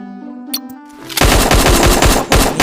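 A GALIL ACE-Surmounter rifle in the shooter game Bullet Angel fires a loud, rapid burst of automatic shots after a brief tonal menu-like lead-in, the rattling fire continuing with a short break.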